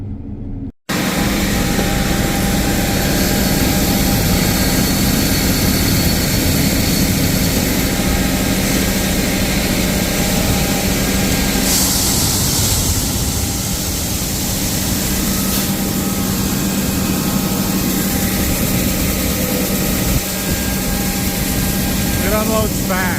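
Tilted grain cart auger unloading shelled corn fast, a loud steady machine roar with grain rushing, running continuously while a voice talks over it.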